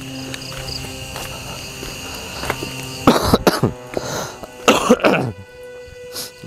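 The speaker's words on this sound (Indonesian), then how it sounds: "Mohon maaf guys sambil batuk-batuk" Two clusters of harsh, rough coughs, close and fairly loud, outdoors among trees, over a steady hum of insects or crickets in the background.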